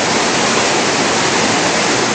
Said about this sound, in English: Definitely a doable flow for whitewater sports